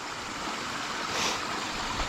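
Steady broadband rush of a small stream flowing over rocks along a narrow rocky hiking trail near a river, soft and even for two seconds with no voices.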